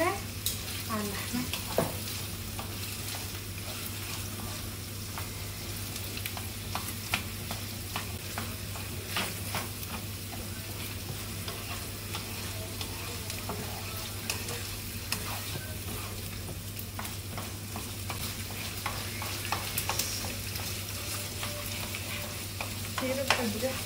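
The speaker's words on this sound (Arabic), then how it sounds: "بلش قلي البصلة على اللحمة." Onion fries on top of meat in a pan and is stirred, with a steady loud sizzle and frequent scraping stirs throughout, no talking.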